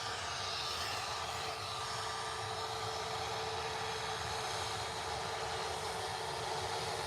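A loud, steady roar of airliner jet engines during takeoff at Liverpool Airport, a broad continuous rush with a low rumble, holding constant throughout.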